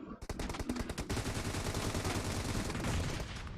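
Rapid automatic gunfire in the mobile battle royale BGMI, a dense, loud stream of shots rattling almost continuously for several seconds, close and dominant with little else audible.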